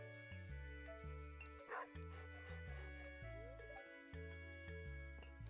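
Dusty the dog in Stardew Valley gives a short happy yip or whimper when petted, a brief sound riding over a bouncy looping game soundtrack.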